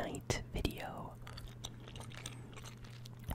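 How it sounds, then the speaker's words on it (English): Two pieces of cotton candy bubblegum chewed up close, with soft wet smacks and a couple of sharper bites early on, over a steady low hum and faint whispery breath. "I am chewing two pieces of cotton candy bubblegum"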